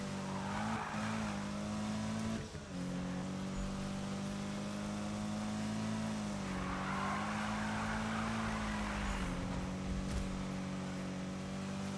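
A car drifting in the Need for Speed racing game, a loud sustained engine drone with rising and falling revs and screeching tire squeal running through the whole stretch, no voices.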